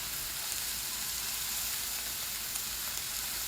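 Cooked rice fries in rendered fat in a pan for fried rice with shrimp and Chinese sausage, giving a steady, even sizzle that holds fairly softly with no talking.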